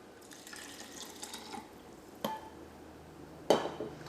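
Coconut milk poured into rice for grinding: a soft, trickling liquid flow with two sharp clinks of a vessel along the way, quiet and close.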